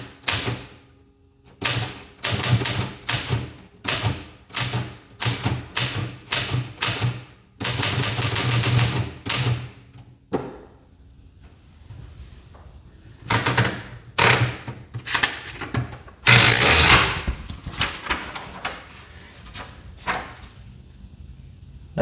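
Typing on a new Royal manual typewriter with paper loaded: loud, close mechanical key strikes in uneven bursts, with clacks, clunks of the carriage and pauses between runs of keys.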